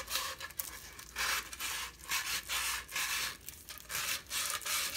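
Burr being scraped from the inside of a drilled hole in a plastic rod holder, heard as repeated rough rasping strokes in a steady back-and-forth rhythm, close and fairly loud with no talking.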